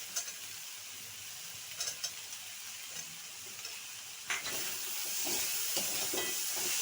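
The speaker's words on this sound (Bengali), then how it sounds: "ভাজাভাজি করে নিতে হচ্ছে।" Peas, beetroot and spices frying in a pan give a steady broadband sizzle with hiss and steam, punctuated by brief stirring clatters near the middle and swelling louder in the final seconds.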